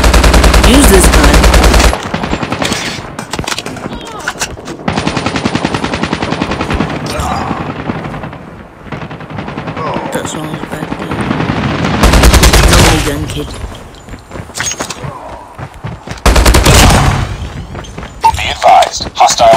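Rapid bursts of gunfire and heavy thuds from a firearm in the mobile shooter game Call of Duty Mobile, loud and repeated in several clusters, with a voice speaking in between.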